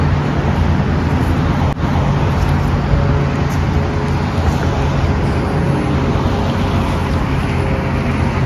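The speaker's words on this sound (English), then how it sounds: "sorry for all the noise with the cars" Steady roar of cars passing on a nearby road beside a disc golf course, loud and continuous with a broad traffic rumble throughout and no voices.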